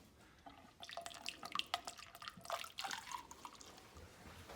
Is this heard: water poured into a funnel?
yes